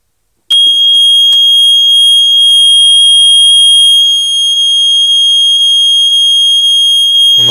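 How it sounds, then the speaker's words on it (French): An AVISS EVAC type 2b fire alarm sounds a piercing, continuous high-pitched electronic tone, starting abruptly after a click and holding loud and steady throughout, close by, with no talking. "On entend un peu le signal d'alarme incendie."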